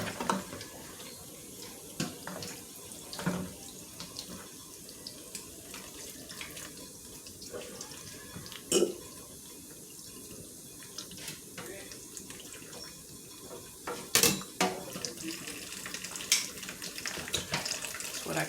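Water runs steadily from a kitchen sink tap while a clogged drain is cleared during pork neckbone cleaning, a continuous close hiss of flow with occasional splashes, clunks and knocks against the basin.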